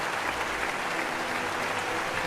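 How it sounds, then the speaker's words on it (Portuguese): Players at a tabletop Dungeons & Dragons session clap together in a steady, dense burst of applause, close and fairly loud, with no talk over it. "todo mundo começa a bater palmas"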